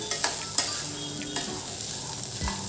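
Chickpeas sautéed in oil in a pan over medium heat, a close hiss of frying with scraping stirs and a few sharp spoon clicks, no voices.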